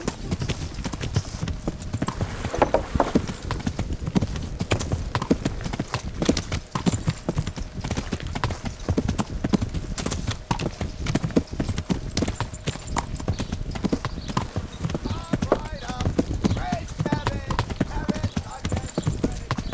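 Horse hooves clatter in a fast, continuous rhythm while riding in Kingdom Come: Deliverance, under busy game noise, with a brief whinny-like sound and some voices mixed in.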